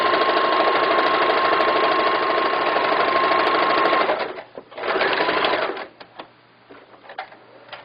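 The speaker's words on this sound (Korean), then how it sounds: "고무줄을 당겨가면서 박음질 해주세요." A sewing machine stitches a floral skirt while elastic is stretched taut. It runs in one steady, loud whirring burst for about four seconds, then gives a few short stop-start bursts before falling quiet.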